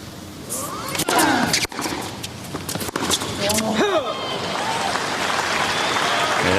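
A tennis crowd at the Australian Open final applauds, with scattered claps at first that swell into sustained, loud applause and cheering, while a voice talks over the start.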